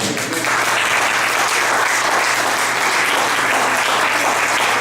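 A church congregation applauds steadily, dense clapping filling the whole stretch at an even, strong level without any voices.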